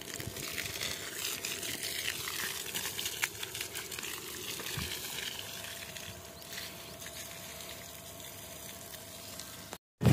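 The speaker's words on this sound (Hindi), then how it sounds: "अब इस प्लाट को मैं लगाऊंगा पानी।" Water flows steadily onto a farm plot during irrigation, a soft continuous gushing and trickling, faint and fairly distant, with no voices.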